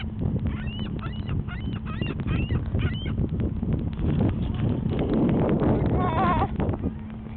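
Squawking seagull calls over a steady outdoor rumble, several short harsh cries in bursts near the start and a rising cluster later, loud and close.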